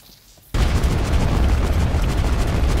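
Firework launcher shots in the PUBG Mobile Tet event map set off a sudden loud, dense barrage of booming bursts that continues steadily after a brief quiet start.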